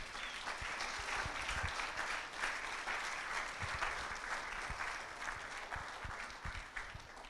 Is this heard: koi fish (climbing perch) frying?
no